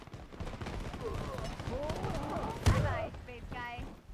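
Shotgun fire in the first-person shooter Shatterline: a dense, continuous clatter of gunfire with one heavy blast near the end, while someone speaks briefly over the combat noise.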